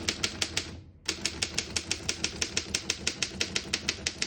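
Keys strike rapidly in an even rhythm on a 1925 Underwood No.5 antique typewriter, each clack crisp and close, with one brief pause before the typing resumes.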